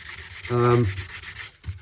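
A chrome-finish plastic part rubbed with 180-grit sandpaper, one short scratchy stroke followed by a fainter brief scrape, close and clear, with no talking.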